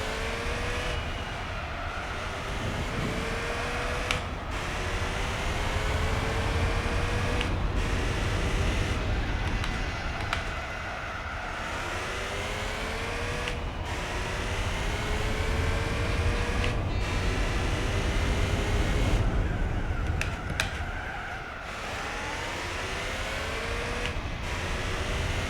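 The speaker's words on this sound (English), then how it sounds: "I really find this an incredibly bad sounding car. It really sounds gamey." A race car engine in Gran Turismo 4 drones and revs continuously, its pitch climbing through the gears and dropping sharply at each shift, with repeated upshift sweeps over a long stretch.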